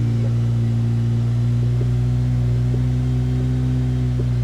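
A Honda Civic Type R engine warming up, holding a steady, close, even hum throughout with no sharp revs.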